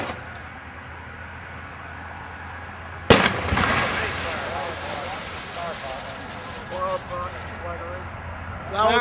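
A flower pot firework at a fireworks shooter training course ignites with a sharp burst, then keeps up a sustained rushing hiss and crackling spray for several seconds at moderate distance.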